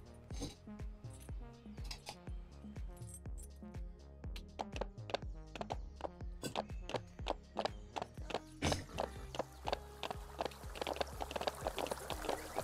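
Horses clip-clop in the ranch video game Ranch of Rivershine, with a steady run of sharp hoof hits over layered game music and ambience.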